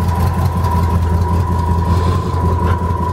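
A 1969 Ford F-100 pickup with a 360 V8 idles smoothly and loudly up close, a steady deep rumble with an even low pulse and a faint whine on top, no talk.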